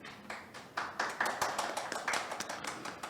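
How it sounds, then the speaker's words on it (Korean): A small audience at a Korean platform-economy forum gives welcoming applause: a light, patchy patter of hand claps that thickens into a steady smattering, heard without talk. "환영의 박수 보내주시기 바랍니다"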